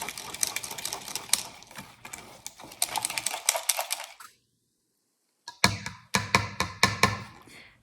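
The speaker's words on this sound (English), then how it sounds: "I also love this wire whisk. And we just want to really mix this up as best as we can." Wire whisk beating cobbler batter in a bowl, rapid rhythmic clicking and tapping strokes in bursts, pausing briefly into silence before resuming, close and fairly loud.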